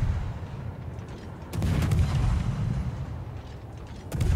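Warship main guns firing in the naval game World of Warships, a few heavy booming salvos over a constant low rumble of engine and sea, with no voices.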